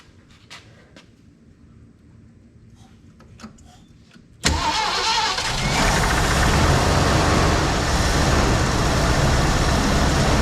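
A 1974 Ford Bronco V8 engine starts for the first time in 16 years. After a quiet stretch with faint clicks, it catches suddenly and settles into a loud, steady run with a slight knock.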